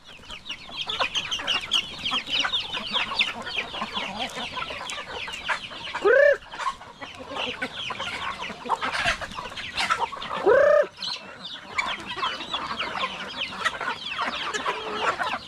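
A flock of chickens clucks and chatters continuously up close, with a couple of louder squawks standing out from the busy background.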